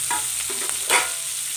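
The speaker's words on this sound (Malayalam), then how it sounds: "ഒരു അഞ്ചാറല്ലി വെളുത്തുള്ളി ചതച്ചത് അതും കൂടി ഇട്ട് കൊടുക്കുക ഒരു മൂന്ന് പച്ചമുളക് അരിഞ്ഞത് അതും ഇട്ട് കൊടുക്കുക ഇതൊക്കെ ഒന്ന് മൂത്ത് വരട്ടെ" Crushed garlic and chopped green chillies fry in hot oil, giving a steady close hiss of sizzling with a brief louder stir or crackle partway through; no voices are heard.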